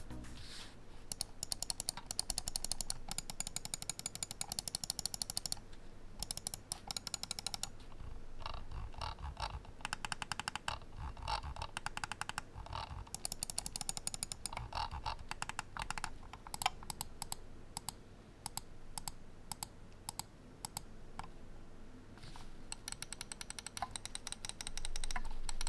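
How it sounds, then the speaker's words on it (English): Button clicks from a Corsair Katar Pro XT gaming mouse, quiet crisp clicks in fast irregular bursts with short pauses, close and isolated over a faint background hum. "They give a very satisfying click when pressed and with a really nice tactile feel."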